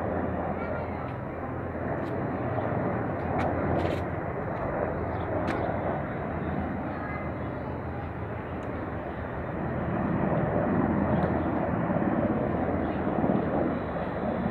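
Helicopters fly over a September independence parade, making a steady, broad, droning roar that swells toward the end. Voices talk over it throughout.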